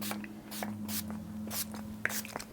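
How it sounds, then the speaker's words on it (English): Makeup setting spray misted onto a face from close range: a few short soft hissing bursts, with faint hum and small handling sounds between them. "I'm just gonna set everything with my makeup setting spray"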